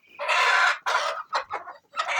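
Chickens cluck and squawk loudly up close in a coop in several short bursts after a light is switched on, with no talking.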